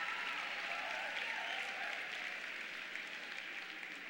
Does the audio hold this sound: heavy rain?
no